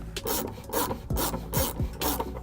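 Ratcheting and rasping of a 12 mm socket on an extension loosening plastic bolts under a 2016 Toyota Highlander during trailer hitch installation, several quick repeated strokes, close and moderately quiet.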